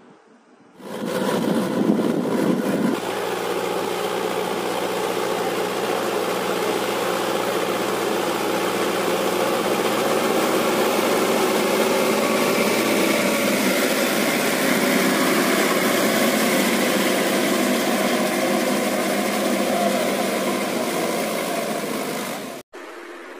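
A Sonalika RX-55 55 HP tractor diesel engine starts and runs steadily, a close, loud, even idle with a low droning hum that holds for about twenty seconds before cutting off abruptly.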